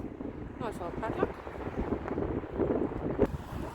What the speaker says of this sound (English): it's getting a bit too bloody windy now